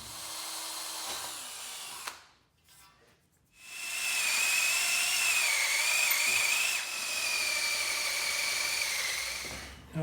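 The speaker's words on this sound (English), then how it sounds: "I'll punch and drill those 2" An electric drill bores holes through sheet metal on a Black & Decker Workmate, whining loudly in two steady runs separated by a brief pause, with a high pitch that wavers under load.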